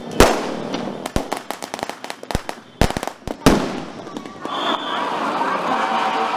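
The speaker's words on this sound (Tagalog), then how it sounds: "Kapag may mga paputok," Firecrackers and fireworks explode during New Year celebrations in the Philippines: a dense run of sharp, loud bangs at irregular intervals, some close together, followed by a lingering crackle and general background noise.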